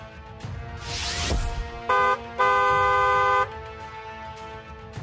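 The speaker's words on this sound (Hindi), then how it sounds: "इसलिए हॉर्न बजाना जरूरी है" A car horn honks twice, a short blast then a longer one, over a steady background of traffic noise.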